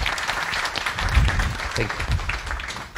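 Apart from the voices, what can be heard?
audience applause after talk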